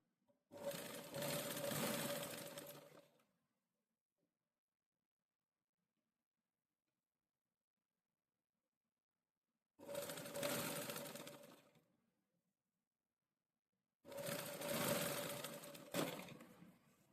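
Sewing machine stitching a fabric seam, in three separate bursts of rapid mechanical whirring, each a couple of seconds long, close by with silence between.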